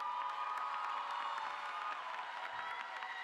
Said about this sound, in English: So please, take that applause, take it in.